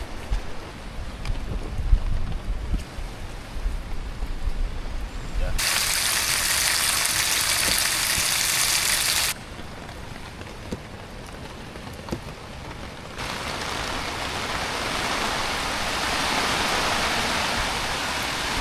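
Steady rain falls on a camp in Fiordland, its even hiss swelling into two louder, denser downpours, close by and with no other sounds on top.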